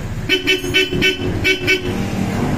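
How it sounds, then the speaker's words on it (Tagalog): A Bosch Europa horn on a motorcycle or scooter toots in a quick series of short, sharp blasts, loud and close, then stops while engine noise continues. "Saka busina na napaka-solid, Bosch Europa."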